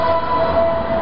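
A vehicle horn sounds on a street during a local election campaign in Sunchang, South Korea, holding one steady, unbroken tone throughout over a busy background.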